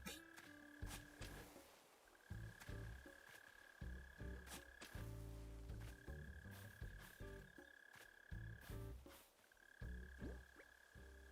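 A mole cricket in the video game Animal Crossing: New Horizons gives a repeating, pulsing low trill in regular bursts, steady and fairly close, with no talk over it.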